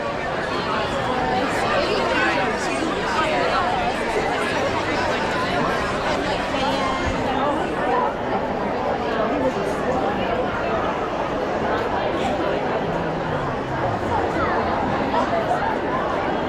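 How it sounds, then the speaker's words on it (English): Dense crowd chatter fills Magic Kingdom in the evening before the Cinderella's Castle fireworks show, a steady, loud babble of many voices all around with no pauses. "More crowd than I expected"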